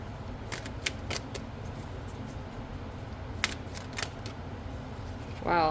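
Tarot cards being shuffled in quiet, light riffles, a few scattered soft flicks and taps with a brief louder rustle near the end.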